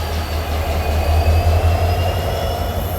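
An EMD WDP4 diesel locomotive from the Siliguri shed rumbles past hauling a train, a loud, steady low engine drone with a faint high whine over it, close by and continuous.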